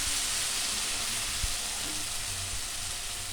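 Spice paste mixed with water hits hot oil and frying garlic in a Bengali boal fish curry, giving a steady loud sizzle with hissing steam that holds evenly throughout, no voices.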